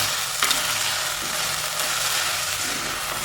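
Sliced onions sautéing in a pan for a pepper fish curry give off a steady, even sizzle, close and moderately loud with no talking over it.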